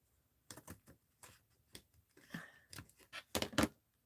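Paper being snipped with scissors to trim an art journal tear tag, a series of close, quiet crisp cuts and rustles in uneven bursts, with short pauses between snips.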